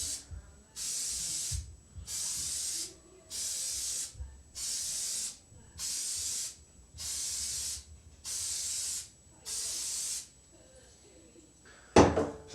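Cleaner is sprayed onto a K&N air filter in eight evenly spaced hissing bursts, each about a second long, close and crisp, followed by a short clatter at the end.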